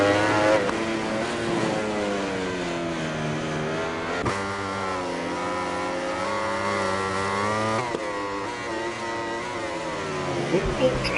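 Ducati and Yamaha superbikes race in an esports motorcycle racing game, engines droning and rising in pitch through the gears, loud and continuous under a commentator talking throughout.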